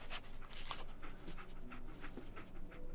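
Dogmeat, the canine companion in Fallout 4, pants steadily in rapid rhythmic breaths close up, with faint game ambience underneath.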